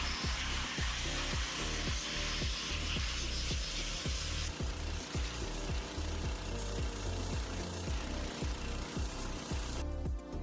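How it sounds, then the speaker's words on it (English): A powerful pressure sprayer blasts leftover shell material off freshly cast metal parts from a lost-PLA casting, a loud, steady rushing hiss with rapid rattling pulses throughout. "I had to blast the rest off with a powerful pressure sprayer"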